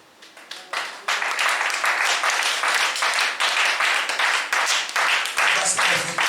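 A church congregation applauds during a service, the clapping swelling after a second into sustained, dense, loud applause that continues to the end, with some voices mixed in.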